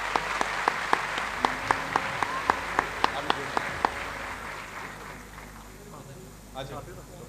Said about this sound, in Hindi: तालियां बजाइए भाई।